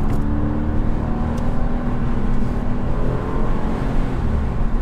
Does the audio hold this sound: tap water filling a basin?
no